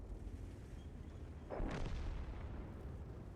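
A tank cannon fires in a tank video game, one sharp boom that rings out through a faint steady background rumble.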